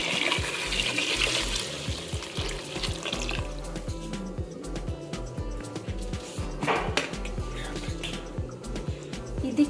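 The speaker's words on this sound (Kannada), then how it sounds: "1 ಲೀಟ್ರಷ್ಟು ನೀರು ಹಾಕಿ" Water poured into a pressure cooker holding vegetables and lentils for bassaru, a close, steady splashing trickle with drips that runs throughout, fading partway, with faint background clatter and no talk.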